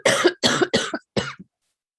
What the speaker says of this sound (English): I apologize for coughing, Your Honor, when I'm unmuted.